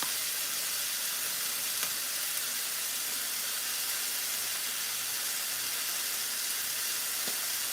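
Chicken breast being basted with BBQ sauce sizzles steadily in an air fryer, a constant close-up crackling hiss with a couple of faint clicks and no voices.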